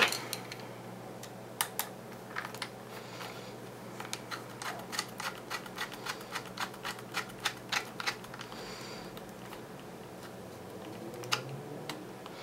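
Small screws are driven back into a PS4 controller with a screwdriver, making a run of sharp, close clicks and ticks in an irregular rhythm, with quiet gaps between bursts and no talk.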